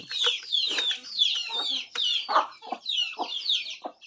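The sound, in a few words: country chickens clucking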